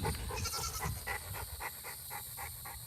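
Goats bleat close by next to a dog kennel holding American Bulldogs, a run of repeated bleats and panting-like calls rising over steady outdoor background noise.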